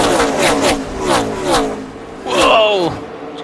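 NASCAR race cars howl past at speed in a 2006 Busch Series race, loud engines rising and falling as they sweep by, with a race commentator's voice running over the engine noise.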